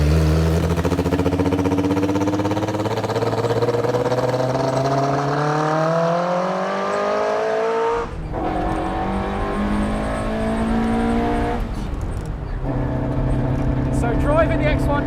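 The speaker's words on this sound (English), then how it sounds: "Driving the X19 rally car is a crazy experience" A Fiat X19 rally car engine revs hard through rising gears, the pitch climbing and dropping with each shift, loud and close from inside the cabin.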